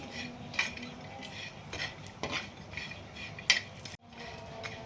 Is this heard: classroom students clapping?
no